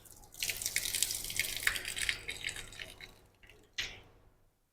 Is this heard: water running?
yes